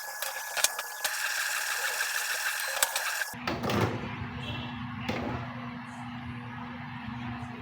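A Canon inkjet printer's mechanism whirs and clicks, then a lower motor hum takes over as it powers down, with a few sharp clunks along the way.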